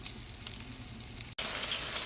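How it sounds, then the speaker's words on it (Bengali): Eggs frying in oil make a soft, close sizzle that cuts off briefly, then returns brighter and louder for the last moment. "আর একটা ডিম আরও দুইটা ডিম আমি ভেজে নেব"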